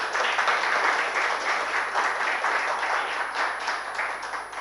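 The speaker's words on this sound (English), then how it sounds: "Hope you will give them a big applause." Applause from the audience at a week-long faculty development program event, an even, continuous patter of many hands clapping at moderate volume throughout.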